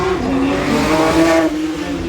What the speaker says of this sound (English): You can see our Porsche has stopped at bang centre there, putting all of the power down